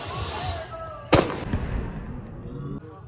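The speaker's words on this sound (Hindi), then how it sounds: "ये अनार है और बम भी है भाई" Anar fountain fireworks and firecrackers going off at a Diwali celebration: a steady hissing spray, then one sharp loud bang, followed by crackling and pops fading out.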